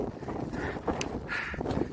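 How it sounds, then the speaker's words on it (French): Steady wind buffets the microphone on a mountain summit in rain, a continuous rushing roar with occasional gusty bursts and no voices. "Et on a atteint le sommet, et il y a un vent et puis la pluie"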